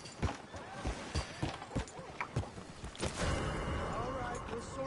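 Horse hooves clop in a quick, rhythmic run across ground in Red Dead Redemption 2, close and fairly loud, then give way to a rougher, continuous rushing texture; a voice may be present faintly.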